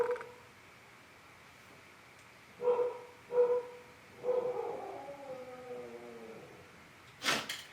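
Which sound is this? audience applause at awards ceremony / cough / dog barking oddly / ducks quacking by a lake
dog barking oddly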